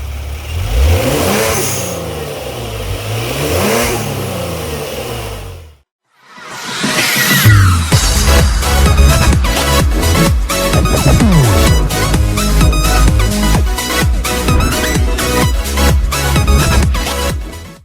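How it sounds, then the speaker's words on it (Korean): A Genesis G70 3.3 turbo engine with an HKS blow-off valve and variable exhaust revs hard and drops off with a sharp turbo blow-off hiss, then rapid repeated revving with fluttering valve bursts, loud and close. "HKS 블로오프 밸브 소리 한번 더 들어보겠습니다."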